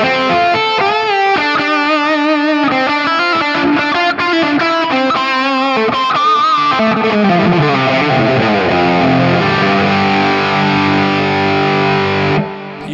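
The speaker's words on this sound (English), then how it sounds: "Scene 4 features a rat distortion," Electric guitar played through a Rat-style distortion effect on an Axe-FX III modeler, a loud, saturated riff of chords and single notes that settles into sustained, ringing distorted notes before stopping abruptly.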